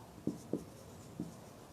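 Marker or chalk taps against a board in three separate soft strokes during a chemistry lesson, close and faint against a quiet room background.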